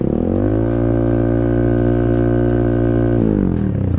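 A Kawasaki Z200 motorcycle fitted with an SC Project exhaust with tip, held at a loud, steady rev for about three seconds before dropping back to idle, close to the microphone.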